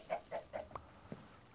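A Minecraft chicken clucks in a quick run of three soft, evenly spaced clucks, then two more scattered clucks, faint and alone with no talk.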